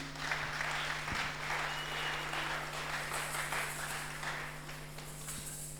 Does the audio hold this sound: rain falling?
no